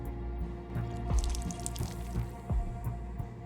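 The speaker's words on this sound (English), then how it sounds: "I'll go and add some water." Water added to a mold in Whispers of a Machine, heard as a few soft drips and splashes over a quiet humming game background.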